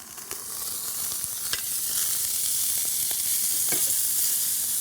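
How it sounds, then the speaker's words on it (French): Lamb noisettes sear in a hot pan with a steady broadband sizzle, and a few sharp clicks and stirring scrapes punctuate the frying. There is no talking. "Est-ce que je peux arrêter ou il faut continuer la cuisson de la viande? On va la retourner."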